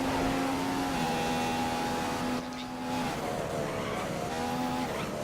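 A McLaren Honda Formula 1 car in a racing video game screams at high revs, with steady engine tones that dip and climb as it shifts through a lap of the Chinese Grand Prix. The sound is loud and continuous.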